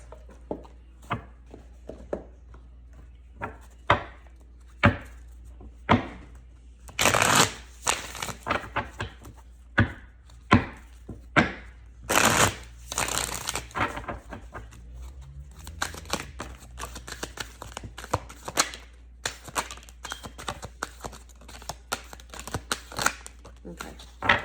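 Tarot deck being shuffled by hand: a long run of crisp card snaps and riffles in irregular bursts, close to the microphone, with a couple of louder rustling flurries and a low steady hum underneath.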